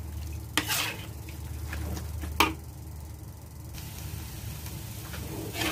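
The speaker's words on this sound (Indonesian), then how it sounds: "aduk hingga tercampur rata." Turnip cake batter with chopped shallot leaves being stirred in a pan until well mixed, giving a low continuous scraping and swishing with a couple of sharper utensil knocks against the pan, and no voices.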